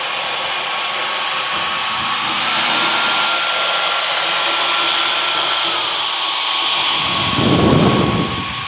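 A Dyson V15s Detect cordless vacuum cleaner runs steadily on a floor with a loud, high-pitched whine that shifts pitch slightly partway through, then swells with a brief louder rush near the end.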